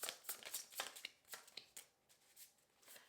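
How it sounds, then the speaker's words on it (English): Tarot cards are shuffled by hand in quick, papery riffles and slaps, several bursts in a row, close and fairly quiet with no talking over them. "going to shuffle one more time."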